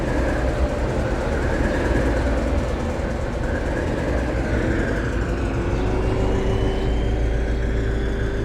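A pair of Class 73 locomotives pulls away from Middleton with a train, a loud, steady rumble of engines and rolling wheels with a faint rising tone.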